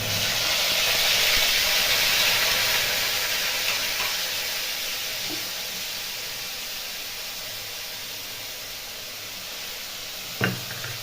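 Ground spice paste for cauliflower korma dropped into hot oil with cardamom, nutmeg, mace and bay leaf, a close hissing sizzle that swells early then gradually fades, with a light knock near the end.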